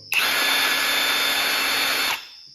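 An electric impact wrench, a bolt-removal tool set to tightening mode, runs in one steady, loud whirring burst of about two seconds, then cuts off abruptly with no voices.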